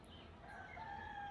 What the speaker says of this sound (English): Rooster is doing his job.